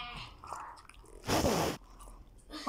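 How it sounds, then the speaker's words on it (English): Chewing gum being chewed close up, with soft wet mouth sounds and one louder crunchy burst in the middle of the short stretch. "I'm eating chewing gum too"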